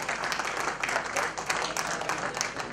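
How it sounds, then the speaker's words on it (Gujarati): A crowd claps steadily at the Global Patidar Business Summit in Mehsana, with dense, even applause that holds at a constant level throughout. "તાળીઓના ગડગડાટથી આપણે એમને વધાવીશું"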